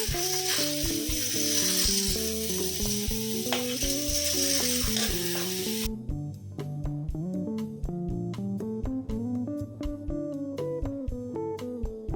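Spices sizzling and frying in a hot pan for Bengali mutton curry, a steady loud hiss with stirring scrapes and clinks throughout, close and continuous.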